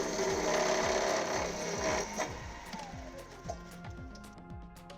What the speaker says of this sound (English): Cutting begins by simply pressing the trigger and pulling down on the handle.